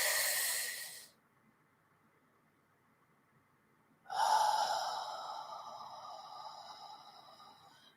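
A deep, hissing breath drawn in during a guided breathing exercise, close and clear, followed after a silent pause by another long inhale that slowly fades.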